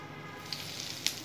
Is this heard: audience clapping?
no